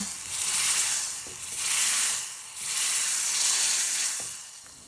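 Spices hit hot oil as tempering for Indian kadhi, sizzling loudly in three or four surging bursts, a bright crackling hiss rising and falling with no voices.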